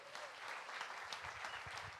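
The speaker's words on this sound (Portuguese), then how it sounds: "Aplauda Jesus." A church congregation applauds, dense crowd clapping that holds steady for a couple of seconds, with faint low voices murmuring underneath.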